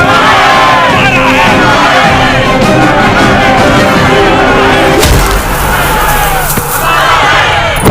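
A large, dense crowd shouts and roars continuously at very high volume, a packed chaotic mass of voices with no pause, from a Hindi-dubbed south Indian film.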